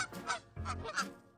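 Geese honking in a short burst of repeated harsh, nasal calls, close and fairly loud, with several overlapping voices in an urban Vancouver setting.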